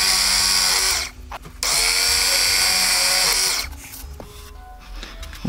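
A power drill bores a hole into a bass guitar neck, running loud and steady for about a second, briefly dropping off, then grinding on for two more seconds before stopping, with faint handling clatter after.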